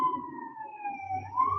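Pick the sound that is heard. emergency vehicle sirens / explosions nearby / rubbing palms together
emergency vehicle sirens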